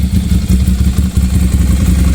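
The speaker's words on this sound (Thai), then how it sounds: "รอบเดินเบานิ่ง ไม่มีโซอิงนะครับเครื่องยนต์ไม่หอนนะครับ" A 2013 Ducati Monster 795 motorcycle engine idles at a steady, even rumble, close and fairly loud, with a low pulsing throb and light mechanical clatter throughout.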